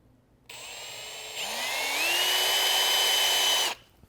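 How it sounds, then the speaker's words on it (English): A power drill with a 135-degree split-point bit whirs loudly and steadily, its pitch rising as it bites into material under moderate pressure, then cuts off abruptly after a few seconds. "put down pressure, moderate pressure, onto the material and the drill, and we're going to start out"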